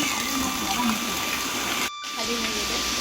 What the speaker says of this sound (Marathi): पाणी बघा किती निवळ येते